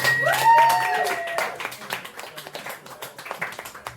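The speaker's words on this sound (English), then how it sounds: "big round of applause for the amazing Ellie Horgan!" Audience at a comedy night in County Kerry clapping after a comedian's set, a burst of applause that thins into scattered claps, with faint whistles and voices mixed in.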